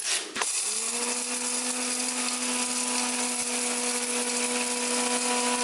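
Roasted curry leaves are ground to a fine powder in a kitchen mixer grinder. After a brief click the motor spins up to a loud, steady, high-pitched whine that holds unbroken to the end.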